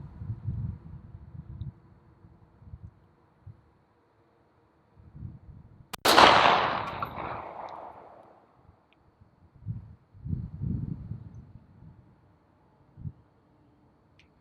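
A single sharp handgun shot cracks out loud and close during range practice, its burst decaying over about two seconds, with quieter low thumps and handling noises before and after.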